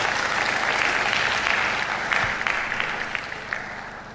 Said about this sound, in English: Please, can we have a loud round of applause for our